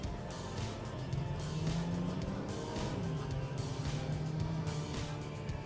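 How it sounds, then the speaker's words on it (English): A Volkswagen T-Cross accelerates from the cabin, its engine note rising and holding in a low drone through the gears, with road and tire noise underneath at moderate loudness. "I'm gonna make a quick acceleration run here."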